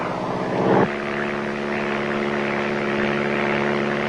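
Two small propeller planes fly over rainforest, making a loud, continuous droning hum with steady engine tones and no talk.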